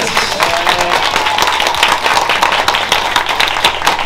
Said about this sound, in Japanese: もう一度拍手。